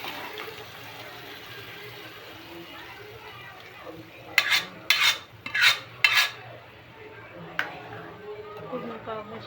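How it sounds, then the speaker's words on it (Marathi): Mumbai street-style pav bhaji being mixed in a pan, with a spoon scraping and stirring in several distinct strokes near the middle, over a soft background hum and under a voice. "पूर्ण पावभाजी टाकून घ्यायची, मिक्स करून घ्यायची आपल्याला."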